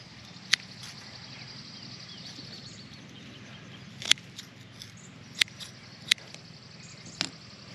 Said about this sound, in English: just take a scissors and cut these foxtail off